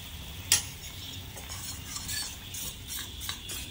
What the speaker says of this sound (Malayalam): ഇനി നമുക്ക് റാഗി ഒഴിക്കാം, അല്ലെങ്കിൽ വറ്റിപ്പോ.